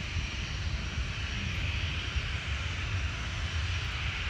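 An airplane passing low over the beach beside Phuket airport gives a loud, steady, broadband engine roar that fills the whole stretch with no talking.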